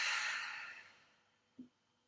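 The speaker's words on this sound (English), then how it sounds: "long breath out." A long exhaling breath at the end of a yoga breathing round, a soft airy out-breath that fades slowly into quiet, followed by a small faint bump.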